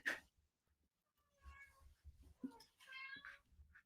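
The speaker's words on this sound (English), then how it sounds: "Cat's giving it the big one." A cat meows loudly several times, long drawn-out calls rising over background talk and the low murmur of a football match broadcast.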